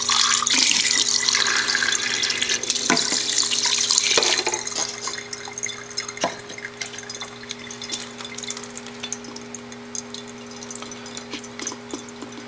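Water runs steadily from a faucet fed by a reverse osmosis system after a filter cartridge change, a loud continuous gushing that eases slightly partway through, with a few clinks and no talk.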